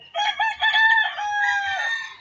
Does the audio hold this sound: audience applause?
no